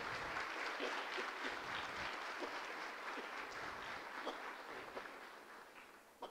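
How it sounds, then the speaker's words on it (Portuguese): Steady applause from an audience at a labor-reform symposium in Itu, continuous clapping heard from a distance and fairly quiet, holding evenly for several seconds. "recebam uma salva de palmas da nossa OAB"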